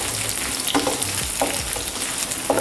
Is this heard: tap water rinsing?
no